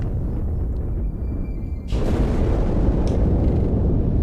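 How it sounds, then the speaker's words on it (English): A shipboard explosion in Halo 2: a deep, roaring boom swells over a dense rumbling background and keeps thundering steadily, loud and close, with no speech. "That explosion came from inside the Athens, same as the Malta."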